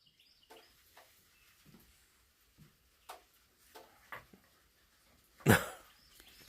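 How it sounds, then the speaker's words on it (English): Two dogs, one of them small, wrestle playfully, with scattered short growls and yips spread through the scene and one louder bark-like burst near the end, set against otherwise quiet surroundings. "We've got dog wrestling going on right here."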